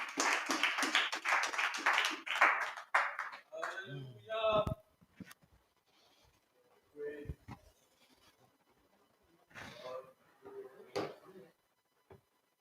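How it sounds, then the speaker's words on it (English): Applause from a congregation at a Shabbat gathering as a guest speaker comes forward, a dense burst of clapping for a few seconds that breaks off into scattered taps and then a voice speaking. "Give him a round of applause as he comes."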